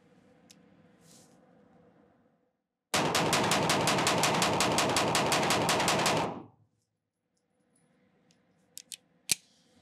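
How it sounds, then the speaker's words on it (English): A handgun fired in a fast string of many shots, the evenly spaced loud reports running together for about three seconds before stopping, followed by a few faint clicks and a sharp tap. "I'm gonna shoot more than five rounds. I'm just gonna keep shooting"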